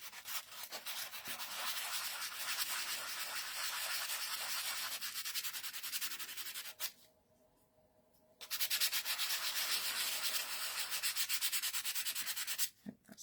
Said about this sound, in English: Just a little light sand across the tops of all of these.